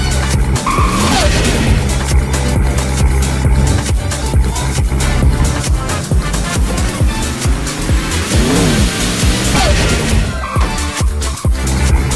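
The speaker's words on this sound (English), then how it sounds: "it sounds like a Supra when braking" Loud Roblox car sounds with engine roar, shifting tones and tires squealing under hard braking, continuous and close.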